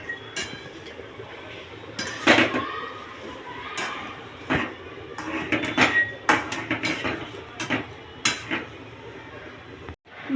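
A bowl of jaggery stirred in a kadai on a gas stove, with a spoon clinking and scraping against the metal pan in irregular bursts, close by.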